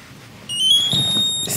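An object-finder tracker device emits a high electronic beep, a steady tonal chirp lasting under a second, close and clear in a quiet room.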